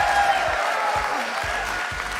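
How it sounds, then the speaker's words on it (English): A crowd cheers and applauds steadily at the Rocket League World Championship group stage, a dense, continuous roar of clapping and voices filling the arena. "Everybody's cheering"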